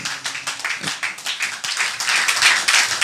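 A church congregation clapping and cheering loudly in praise during a worship service, dense overlapping applause building steadily in intensity across the whole moment.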